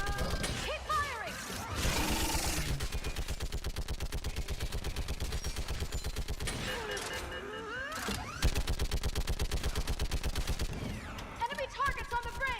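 Sustained automatic gunfire rattles in rapid bursts in the video game Mass Effect 3, near and loud, broken by brief pauses, with sci-fi effects and combat voices mixed in.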